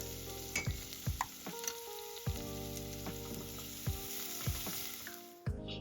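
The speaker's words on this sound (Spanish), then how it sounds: "Y en esa misma olla sofreiremos la cebolla roja cortada en pequeños cubitos" Finely diced red onion sautés in a pot for carapulcra, giving a continuous close sizzle and crackle with occasional clinks and scrapes of a spoon stirring, without any voices.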